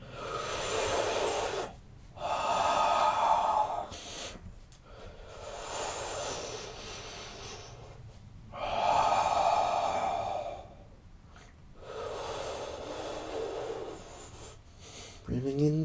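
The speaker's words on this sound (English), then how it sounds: "here we also want to breathe deeply." Deep, slow breathing during a yoga session: a series of long, close inhales and exhales with short pauses between them. Each breath is a soft, airy rush, heard alone without talk.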